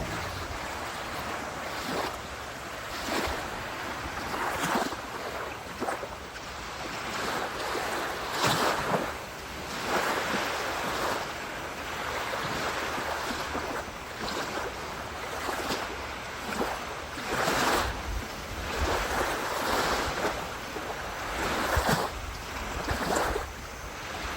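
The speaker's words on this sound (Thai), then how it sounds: "อยากให้เพื่อนๆ ได้ฟังเสียงคลื่นด้วย" Ocean waves wash onto the shore in front of a resort in southern Thailand in a continuous rolling surge, swelling and fading repeatedly, with steady wind noise and no talking.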